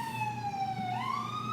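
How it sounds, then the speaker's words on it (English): A wailing emergency siren holds a steady tone, then slides upward, sounding from a moderate distance, with no voices over it. "There's literally a siren."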